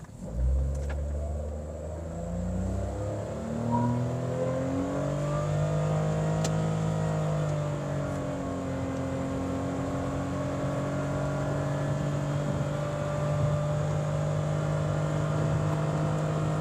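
A Honda N-Wagon 660cc kei car accelerates hard from a standstill, its engine note rising steadily and droning at high revs for a long, sustained pull, heard close from inside the cabin with no talking.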